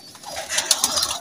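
High-flyer pigeons coo softly in a breeding setup where eggs and chicks are present, a brief, muffled burble of bird calls at close range.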